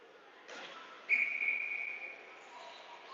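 A referee's whistle at a youth ice hockey game in a rink, one sustained shrill blast over the hall's ambient crowd noise, with commentary voices faintly present around it.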